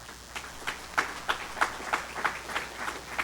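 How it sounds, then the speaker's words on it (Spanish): Church congregation clapping together in a steady, rhythmic beat of roughly three claps per second, moderately faint with room hum underneath. "Un aplauso al Señor."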